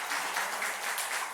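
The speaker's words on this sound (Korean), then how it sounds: "여러분들이 박수로 맞이해 주셨으면 좋겠습니다" Church congregation applauding to welcome their pastor during a Sunday worship service, a steady, dense wash of many hands clapping at moderate distance with no talk over it.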